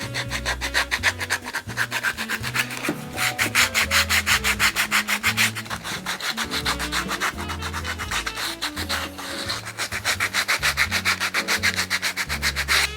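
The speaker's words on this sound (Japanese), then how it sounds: "今度はサンドペーパーで削っていきます。" Sandpaper rasps steadily against the edge of a leather shoe sole on a baby calf semi-brogue, making loud, close, rhythmic back-and-forth rubbing strokes that continue without a break.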